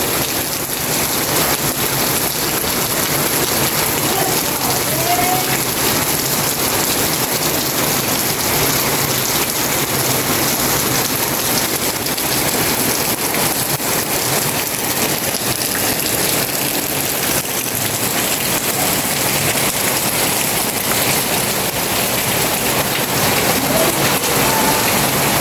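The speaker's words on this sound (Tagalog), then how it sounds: "Walang tigil ang ulan." Heavy, unbroken rain pours steadily during a storm named Crising, a dense wash of drumming on surfaces that stays loud and constant throughout with no voices.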